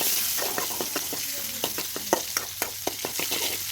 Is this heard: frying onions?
yes